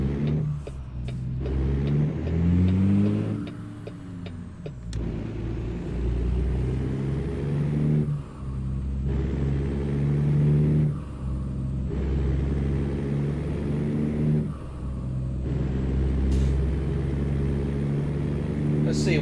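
A Peterbilt day cab truck's engine in American Truck Simulator drones steadily with rising and falling revs through gear changes, running continuously under a voice talking.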